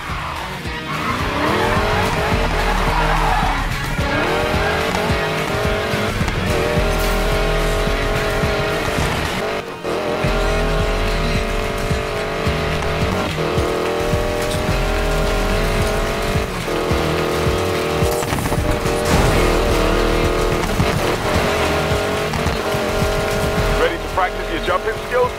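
Hypercar racing in the Need for Speed Payback video game, with a loud sustained engine roar, shifting revs and repeated tire squeals and skids running continuously, mixed under game music and occasional voices.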